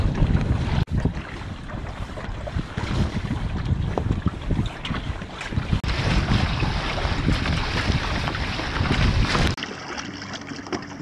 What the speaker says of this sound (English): Still gusts coming through.